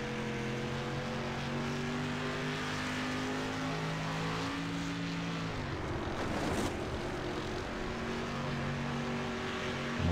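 Dirt street stock race car engines from a racing sim at Bristol Motor Speedway drone steadily, with the pitch rising and falling as drivers work the throttle. A brief louder rush comes midway through.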